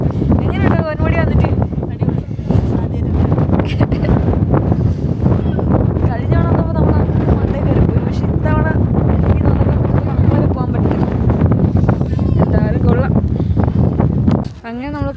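Strong wind at the Ponmudi hill station buffets the microphone in a steady roar, with people talking throughout over the gusts.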